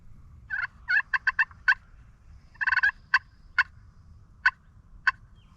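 A wild longbeard turkey gobbles out in the open during a spring youth hunt, in several rattling bursts of rapid notes with short pauses between them, moderately loud over a low background rumble.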